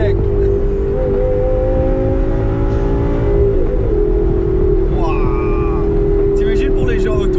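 A Dodge Viper ACR Extreme, 740 hp, switched into manual mode, its engine droning loud and steady with a sustained rising and falling tone, heard close up with brief voices exclaiming over it.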